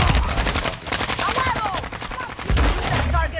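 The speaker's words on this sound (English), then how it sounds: "I'm being shot at." Rapid automatic gunfire in Call of Duty: Modern Warfare, loud sustained bursts with a brief pause midway, with a voice speaking over the shooting.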